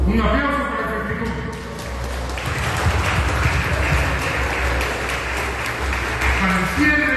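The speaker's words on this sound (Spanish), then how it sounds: "Un aplauso para el Festicum." Audience applause at the Fexticum festival in Monsefú, Lambayeque rises after a speaker's voice through a sound system, swelling into a loud, sustained wash of clapping that carries on to the end.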